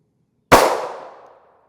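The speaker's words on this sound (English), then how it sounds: "We'll take one more shot from the Black Dragon Fang" A single sharp gunshot from a Black Dragon Fang round fired at an NIJ Level IIIA aramid helmet, a loud crack with a short ringing decay, alone after a moment of silence.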